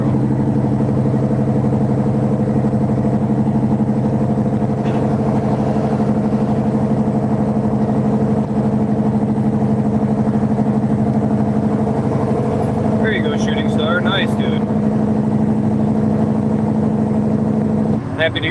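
A semi truck hauling 70,000 lb with loud exhaust pipes drones steadily from inside the cab while running northbound, a constant deep engine hum with some brief rattles and clicks near the end.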